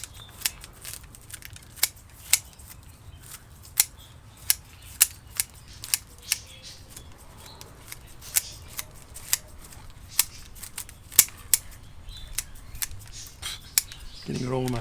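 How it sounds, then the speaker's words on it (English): Crisp, sharp snips of heavy-duty scissors cutting wet bonsai roots recur at irregular intervals across the clip, each one short and clicky, over a low rustling background. "Sharp scissors, heavy duty."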